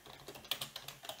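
Light key taps on a computer keyboard come in a quick, irregular run of about a dozen strokes, close and fairly quiet with no voices.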